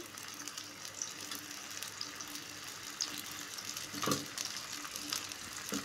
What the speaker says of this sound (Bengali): তো এখানে আমি এখন মাছগুলো দিয়ে দিচ্ছি।